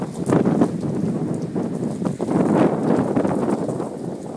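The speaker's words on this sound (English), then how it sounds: "Winds are gusting around 45 miles an hour." Gusty storm wind roars steadily and loudly against the microphone during a nighttime tornado warning with rain and lightning in Greensburg, Indiana, surging in waves with a brief dip midway.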